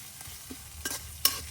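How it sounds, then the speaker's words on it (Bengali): Chopped onion and garlic fry in a pan with a soft, quiet sizzle, broken by a few brief scrapes and taps as the spoon stirs. "এখন পেঁয়াজ আর রসুনটা ভালো করে ভাজে নিলাম।"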